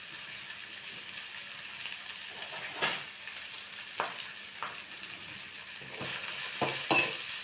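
Moringa leaves fry in hot oil, giving a faint, steady sizzle broken by a few sharp stirring clicks and spatters, with no one speaking.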